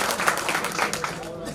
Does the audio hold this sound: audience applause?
yes